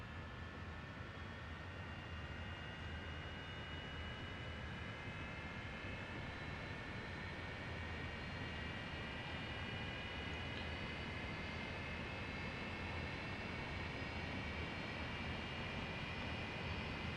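An F-86 Sabre jet engine idles on the ground in the DCS World flight simulator, a steady, loud rushing roar with a thin whine that creeps slowly upward in pitch, continuous and alone throughout.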